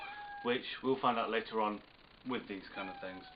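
House cat meowing repeatedly in several drawn-out, tonal cries close by, overlapping someone speaking steadily.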